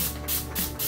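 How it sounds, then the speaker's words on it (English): Rose water facial mist sprayed from a pump bottle: three short, breathy hissing bursts in quick succession, close and steady, with no talking. "I'm going to spray my face with some rose water"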